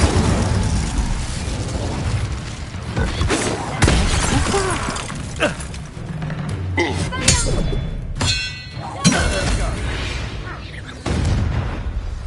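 The Incendio fire spell cast in battle in Hogwarts Legacy, with loud bursts, whooshes and shattering crashes in a chaotic sequence, mixed with other combat effects and spoken voices.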